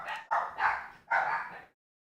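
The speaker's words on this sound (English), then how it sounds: "Sorry about the dogs." Dogs bark in three quick, close, loud bursts, then stop, with no talking.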